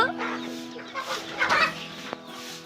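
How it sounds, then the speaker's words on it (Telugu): Chickens cluck and chatter nearby in a busy, uneven stream of short calls, with a sharp peep standing out near the end. "ఇక్కడ మా బాను గింజలు వేస్తుంది ఈ కోడిపిల్ల"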